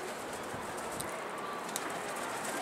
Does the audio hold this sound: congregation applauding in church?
no